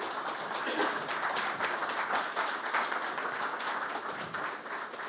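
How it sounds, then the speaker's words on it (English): An audience applauds after a keynote talk at a publishing event, a continuous wash of clapping from many people heard throughout at moderate loudness. "How about a round of applause"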